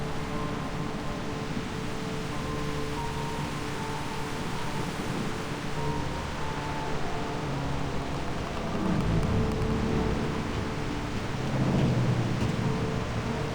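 A thunderstorm in the video game Reverse: 1999 brings a dense, continuous roar of rain with low rumbling swells of thunder that grow heavier near the end, with no voices.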